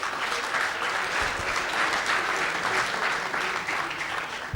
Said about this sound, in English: I think she deserves a more round of applause.